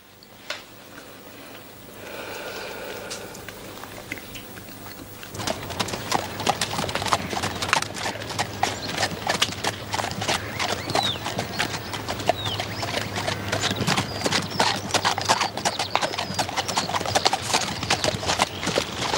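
Rhythmic horse hoof clip-clops, from a Sherlock Holmes episode with a lame horse, drum on for a long stretch after a quieter opening, steady and fairly close, with a faint tonal sound early on.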